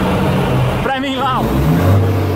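A Peterbilt truck with a Caterpillar engine revs under steady, loud engine rumble, with people talking and calling out close by.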